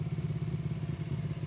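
A cartoon three-wheeled homemade racing motorcycle engine rumbles in a steady, loud, throbbing drone with a slight rattle, continuous throughout and close by.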